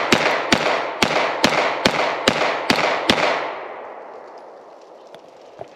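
Rapid string of CZ P10F 9mm pistol shots at a shooting range, eight sharp evenly spaced cracks about half a second apart, loud and close, followed by a fading echo and a faint later shot.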